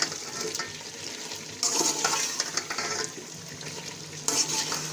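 Chicken and vegetable pulao sizzles in a pan while a spoon stirs and scrapes through it. The frying hiss is steady, with irregular bursts of close stirring and metal scraping.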